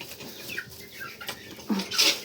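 Chickens and roosters on a farm, with soft clucking and a few brief calls in a quiet setting. A louder, sharper call stands out near the end.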